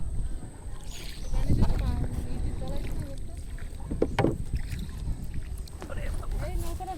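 A rowboat moves along a rain-swollen river, with soft watery splashes and wind noise under ongoing talk from people nearby.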